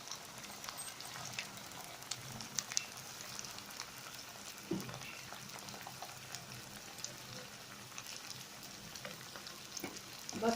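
Potato bites frying in hot oil on medium heat, a steady soft sizzle and crackle with scattered pops, fairly faint and continuous, no talking.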